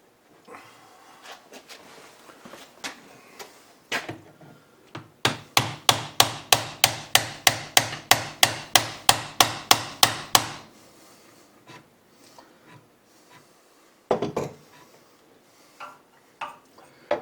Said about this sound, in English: So I'm going to fill this up with washers, enough to hold it while I tap on that pulley.